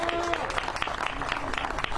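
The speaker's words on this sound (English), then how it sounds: "I just want us to get our hands together and applaud for Gertrude Stone and this family." A crowd at an outdoor park dedication claps steadily in warm applause, with voices mixed into the clapping.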